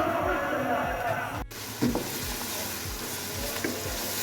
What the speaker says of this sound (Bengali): বিরিয়ানির পেঁয়াজ মরিচ মশলা কষাচ্ছি